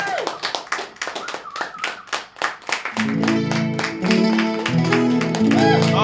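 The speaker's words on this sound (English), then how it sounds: "it's an extra long clap, that one" Live living-room performance audience clapping for a few seconds, fairly close and steady, then giving way to loud strummed music with a voice over it.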